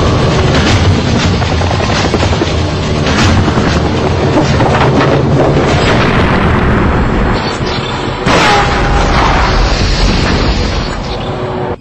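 A remote-controlled bomb planted in a bed goes off, heard as a loud, sustained booming rumble with a sharp burst partway through.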